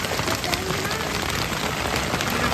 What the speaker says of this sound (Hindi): बहुत खतरनाक ओले गिर रहे हैं, बहुत तेज और बहुत खतरनाक